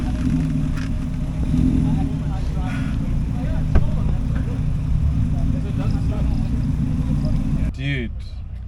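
A modified Ford Figo driving on a race track, its engine a loud, steady low drone lasting several seconds before dropping away near the end, with voices talking over it.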